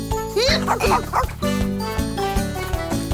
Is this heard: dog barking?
yes